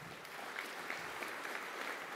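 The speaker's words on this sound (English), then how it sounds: "Big round of applause for Fitzy" An audience claps for Peter Fitzsimons at a rugby toast dinner, a steady wash of applause from a crowd held at an even level for a couple of seconds.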